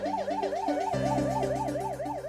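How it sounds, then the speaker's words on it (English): An ambulance siren wails in a rapid, continuous up-and-down cycle, loud and close, with no voices over it. "An ambulance arrives at the site moments later."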